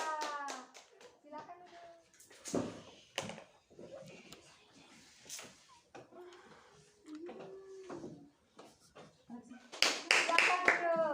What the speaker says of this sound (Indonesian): Tepuk tangan dulu buat karya kelompok merah.